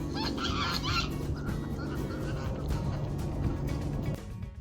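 Several geese honk close by on a frozen pond, a cluster of loud calls near the start, over a low steady rumble.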